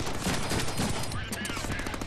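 Pistol gunfire in the Deadpool video game, a rapid run of sharp shots cracking in quick succession, loud and close, with game voices and effects mixed underneath.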